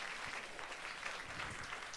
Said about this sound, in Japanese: じゃあもう一度、杉本さんと都築さんに大きな拍手を。